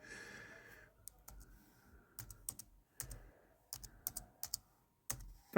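Fingers type a password on a computer keyboard with scattered, uneven key clicks, some in quick clusters, close and fairly quiet, with a faint breath in the background.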